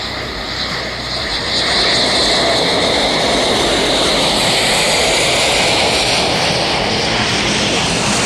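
Fursan Al Emarat jets rolling for takeoff at the Farnborough airshow, a loud, steady roar of several engines that swells within seconds and then holds, broad and continuous, with no talk over it.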